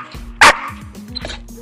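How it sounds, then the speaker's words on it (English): A dog gives one sharp, loud bark on command during obedience training with a ball, followed by soft whimpering yips and panting. "So you can also teach your dog to speak to you by using the ball."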